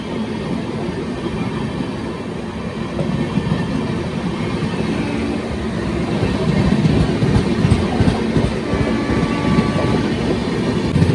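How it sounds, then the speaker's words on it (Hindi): The Amritsar Mail express train rumbles past on the crossing track at an Indian railway crossing, a loud, steady roar of rolling wagons with faint clickety-clack that swells slightly toward the end. "अमृतसर मेल क्रॉसिंग होती हुई"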